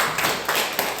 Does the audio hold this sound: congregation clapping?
yes